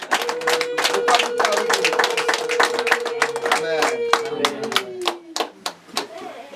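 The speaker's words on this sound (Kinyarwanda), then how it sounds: "Reka tugukomere amashyi." Rhythmic clapping from a crowd at a church gathering for a visiting prophet in Rusumo, Burera, steady and dense throughout, with a sustained tone running under the claps before they thin into scattered hits.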